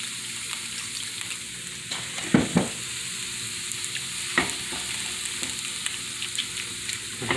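Spanish-style cut potatoes and onions frying in a pan, a steady soft sizzle running throughout with a few clatters of stirring or utensil knocks, close and fairly quiet.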